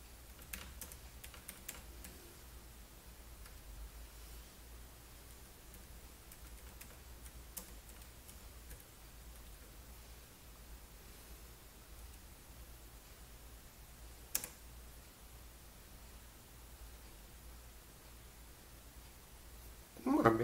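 A small Bluetooth keyboard paired with an iPhone running a ColecoVision Adam emulator clicks under light, faint keystrokes, scattered through a quiet room with occasional louder taps.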